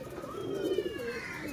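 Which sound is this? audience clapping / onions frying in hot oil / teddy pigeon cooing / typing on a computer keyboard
teddy pigeon cooing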